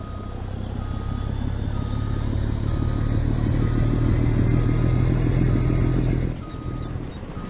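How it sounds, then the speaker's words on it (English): Steady low engine drone of a Pepsi truck maneuvering in Farming Simulator 22, holding an even rumble for several seconds before the pitch and level drop suddenly near the end. "Let's get the truck swung around here."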